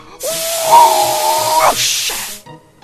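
A close, loud hiss of escaping steam with a brief whistling tone, lasting about two seconds before cutting off.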